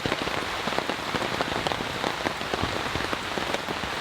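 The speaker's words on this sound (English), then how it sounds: "This is a good soaking rain." Heavy storm rain pours steadily on a surface at a campsite, a dense unbroken hiss with frequent close drop impacts and no voices.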